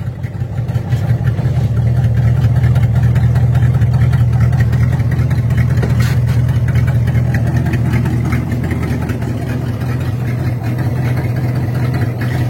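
A 1957 Chevy engine idles low and steady, a loud, continuous low rumble close by with a slight rise in revs partway through, no voices over it.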